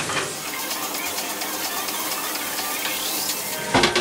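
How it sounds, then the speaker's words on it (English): Chopped white onion frying in a pan with ginger, garlic and spring onion, a steady dense sizzle running throughout with a few sharper crackles near the end. "Now I will add white onion, chopped white onion."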